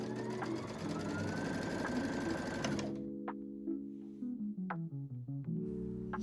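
A Brother Innov-is V5 sewing machine stitches at a steady run with a dense, even whir, then stops and the motor settles into quieter intermittent clicks and short pulses near the microphone.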